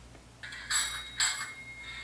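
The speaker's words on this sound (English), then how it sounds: "F3 is the conductor bell, which is the one on the roof." An HO scale model New Orleans streetcar's conductor bell rings twice in quick succession, two bright metallic dings about half a second apart, over a low steady hum.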